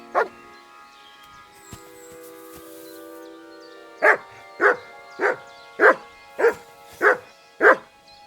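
A dog named Mutt barks in Kingdom Come: Deliverance II, seven loud, evenly spaced barks following a stretch of quiet tonal hum.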